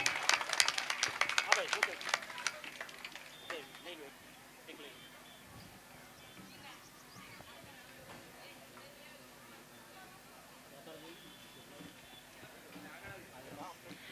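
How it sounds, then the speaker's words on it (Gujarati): Crowd applause for award recipients at a Bhim Jayanti gathering in Rapar, loud clapping at first that fades within a few seconds, followed by distant murmur and a voice over a public address. "આપણે તાળીઓના ગડગડાટથી એમને વધાવી લઈએ."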